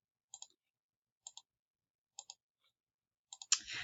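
Keyboard keys tapped in short, quiet pairs of clicks spaced about a second apart, close and isolated in silence, ending in a brief louder burst of noise.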